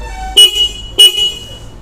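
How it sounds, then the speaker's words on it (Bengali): Two short, loud horn blasts from a single horn on a 2025 Honda Hornet 2.0 motorcycle, the toots about half a second apart over quiet background, with no talking. "এটা হচ্ছে হর্নটাও তোমাদের শুনিয়ে দিই"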